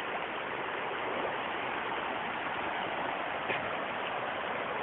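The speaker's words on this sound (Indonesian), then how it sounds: "Ini aliran sungai Cicerus, sahabat ya." The Cicerus river flows past countryside rice fields with a constant, even rushing of water, close and steady throughout, with no voices.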